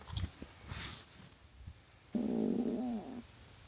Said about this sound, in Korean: 지금 꼬르륵 소리를 들려드리기로 했습니다.